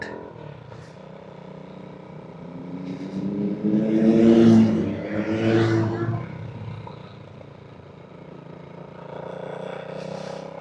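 A motorcycle with a loose exhaust pipe rattles and burbles as it revs at close range, swelling louder midway and then settling back to a rough idle.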